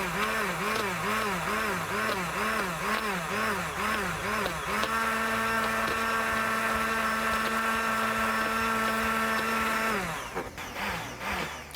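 A food processor blending mayonnaise whirs loudly and close, pulsing at first, then settling into a steady high whine before stopping.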